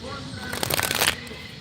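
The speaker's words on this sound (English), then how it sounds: "I'm just shuffling" Tarot cards are shuffled up close in a quick riffling burst of crisp paper flutter, rising briefly and then settling.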